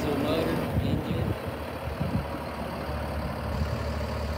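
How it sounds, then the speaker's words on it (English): A Mercedes-Benz diesel engine in a Freightliner Thomas & Co. school bus idles with a steady low rumble at an auction lot, while a person talks over it. "It's got a Mercedes-Benz diesel motor engine."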